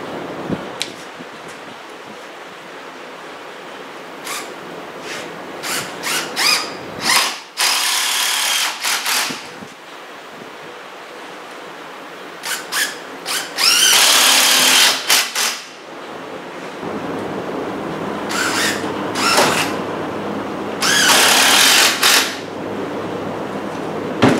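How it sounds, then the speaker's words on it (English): A power drill whirs in repeated bursts driving long screws into wood, some short and some sustained for a second or two, with quiet pauses and faint handling noise between runs. "When you're screwing a corner together, you always want to pre-drill the hole"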